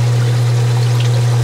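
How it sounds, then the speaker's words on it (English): Water discharging through a line during an aquarium water change: a steady, continuous pouring rush under a strong low electrical hum, constant and close with no talk. "right now we're actually discharging water"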